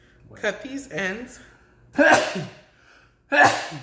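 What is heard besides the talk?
sneeze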